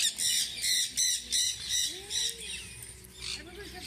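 A pet parrot squawks in a home with children, giving a run of loud, harsh, rhythmic squawks close by followed by a few softer calls and whistles, with faint voices in the background.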